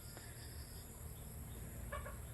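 Chickens kept on a farm lot in Lopez, Quezon give faint, distant clucks over a low outdoor rumble, with a short burst of clucking near the end.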